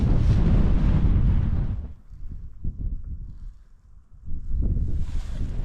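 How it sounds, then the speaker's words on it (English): Wind buffets the microphone on an autumn hillside in the Cheviots, loud rumbling gusts at first, easing into a quieter lull with scattered buffets, then strengthening again at the end. "It's a bit windy"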